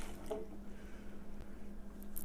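Water is added to pureed broccoli and pears for baby food, a soft, faint squishing and dribbling of liquid into the thick mash close by, over a low steady hum, with no talk.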